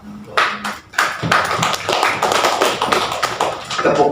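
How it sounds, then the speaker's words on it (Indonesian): An audience claps at an Indonesian youth speech event, a dense burst of applause that starts after a brief pause and carries on steadily. "Karena tepuk tangan tidak ikhlas"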